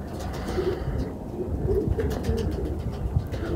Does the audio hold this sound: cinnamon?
no